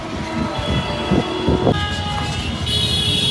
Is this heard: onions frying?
no